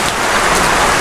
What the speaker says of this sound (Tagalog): lakas ng ulan mga idol